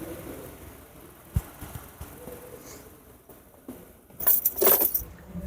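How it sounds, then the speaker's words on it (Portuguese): Keys jangling as a car is switched off, a quiet low engine hum with faint clicks followed by a brief bright rattle of keys near the end. "desligar o veículo"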